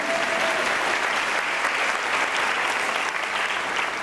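Audience clapping for a board member at a school welcome event, a steady dense round of applause from a room of people, moderately loud and continuous throughout.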